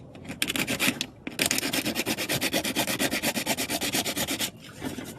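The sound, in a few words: sanding the stock backing plate of a Mustang hood vent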